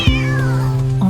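A kitten lets out one loud, close, sustained meow with a steady drawn-out pitch, heard alone without talk.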